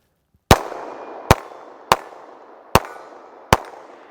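A Smith & Wesson EZ pistol fires at a range with shots striking a steel target at 60 yards, five sharp loud reports spaced roughly a second apart, each with a short ringing decay.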